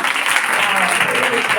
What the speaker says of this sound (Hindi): और ज्यादा तालियां बजाइए ना।